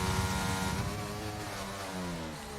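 Formula 1 race cars, a McLaren and an Alfa Romeo, race in the game F1 2022 at the Austria circuit, giving a steady, fairly faint high-pitched engine whine that holds on without a break.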